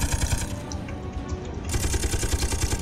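Rapid Gatling cannon fire from a gunship in the Space Engineers video game, a dense continuous stream of sharp mechanical bursts that grows brighter and fuller partway through, close and loud with no talk.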